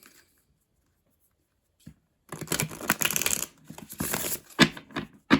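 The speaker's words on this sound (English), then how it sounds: "Give them a good shuffle." After a quiet stretch, a deck of tarot cards is shuffled close by, bursts of crisp riffling and flicking.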